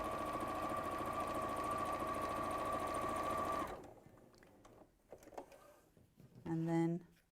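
A sewing machine stitching down fabric binding runs steadily with a fast even whirring for about four seconds, then stops, leaving quieter handling noises and a brief mechanical whine near the end; a person talks.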